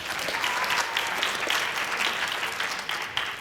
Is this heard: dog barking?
no